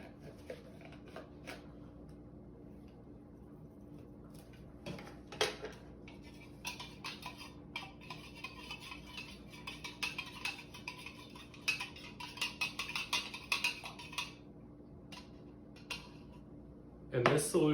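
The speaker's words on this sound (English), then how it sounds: "no matter how much I stir, salt still rests at the bottom" A spoon stirring salt into water in a measuring cup, quick light clinks and scraping taps against the cup coming in bursts, faint and close, with quiet background hum.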